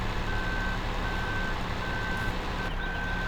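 Lorry reverse-warning beeps from a Farming Simulator 2015 truck, a steady repeating tone in evenly spaced bursts over a constant engine rumble, with no talk.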